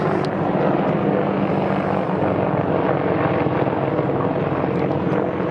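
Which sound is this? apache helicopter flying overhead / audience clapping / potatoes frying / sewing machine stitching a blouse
apache helicopter flying overhead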